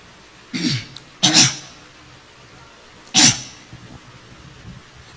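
A person with a runny nose sniffling, two quick wet snorts close together and then a third a couple of seconds later, loud and close, with quiet pauses between.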